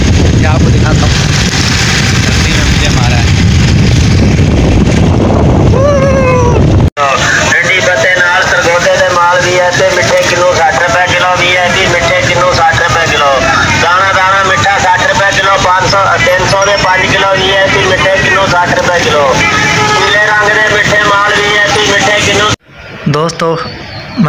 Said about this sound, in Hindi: ठंड में मोटरसाइकिल की सवारी हो रही है